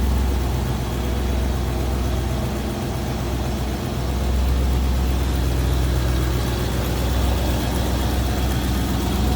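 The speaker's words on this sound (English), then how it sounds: "Nice smooth running V8 underneath the hood." A 1956 Chevrolet Bel Air two-door hardtop's V8 idling under the hood, a steady, smooth low rumble held throughout at close range with no talking.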